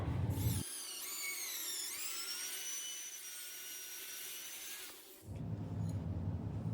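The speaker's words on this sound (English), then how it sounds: "Now I'll go ahead and drill out this hole" A high-pitched power drill whines steadily as it bores, its pitch shifting slightly, running for about four seconds before stopping, with background noise before and after.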